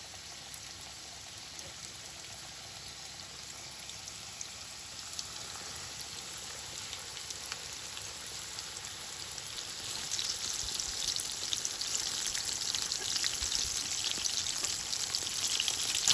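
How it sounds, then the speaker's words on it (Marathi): Mutton chops fry in hot oil over medium gas, a steady broadband sizzle that continues throughout and swells louder and more crackling in the final seconds, with no voices. "आमकां हे चॉप्स फ्राय करूंक जाय"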